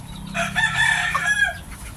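A McLean Sweater gamefowl, a blue-legged hen, gives a close, loud crow-like call lasting about a second, sharp and raspy, with a faint farmyard background.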